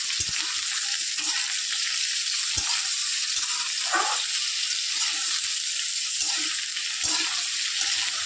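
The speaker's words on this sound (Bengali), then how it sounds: "এরপর আমি এর ওপরে কুমড়োটা ছেড়ে দেবো। ওগুলো দিয়ে দিলাম, এটা সুন্দরভাবে ভেজে নেব।" Potatoes and pumpkin fry in a pan with a continuous bright sizzle of hot oil, broken now and then by short scraping taps of stirring.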